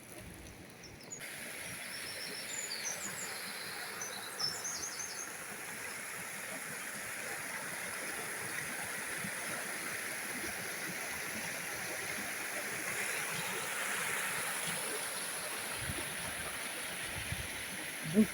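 A small stream flows steadily beside a church, giving a continuous, fairly close broadband rush of water with a faint gurgle, with a few chirps briefly audible early on.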